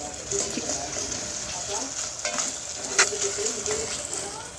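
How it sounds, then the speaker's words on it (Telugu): Ginger garlic paste fries in a pan with a steady, fairly close hiss and a few soft utensil clinks, a faint voice murmuring underneath. "ఒక స్పూన్ అల్లం వెల్లుల్లి పేస్ట్ వేసుకొని అది పచ్చివాసన పోయే వరకు అయితే ఫ్రై చేసుకున్నానండి"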